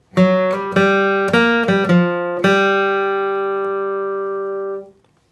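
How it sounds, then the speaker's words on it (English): A quick bluegrass flatpicking run of bright plucked guitar notes picked in succession, ending on a ringing chord that sustains and fades before stopping. "Here's what lick number 1 sounds like."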